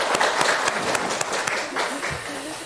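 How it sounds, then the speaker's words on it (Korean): A church congregation applauds during a Sunday service, a dense patter of many hands clapping that fades slightly toward the end, with a voice speaking briefly over it. "하나님께 영광의 박수 올려드리겠습니다."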